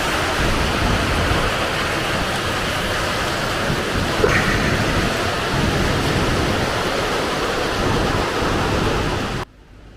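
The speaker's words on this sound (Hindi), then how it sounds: "बारिश हो रही है और मौसम बहुत ही शानदार हो गया" Steady, dense rain falls in the Kumaon mountains along the Pithoragarh to Munsiyari route, a loud continuous hiss that stays even throughout before cutting off abruptly at the end.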